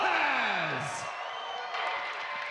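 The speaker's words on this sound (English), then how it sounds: "The crowd clearly on the side of Rojas" Crowd at an MMA event cheering, whooping and clapping for fighter Tony Rojas as he is introduced, a dense, loud roar of voices and applause throughout, with an announcer's voice fading early on.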